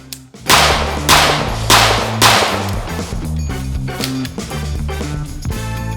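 Gunshots from a MAC 9DS Comp pistol, a compensated budget 2011, fired outdoors: four sharp, loud cracks spaced about half a second apart, then quieter shots trailing off, each with a short echoing tail over a low background hum.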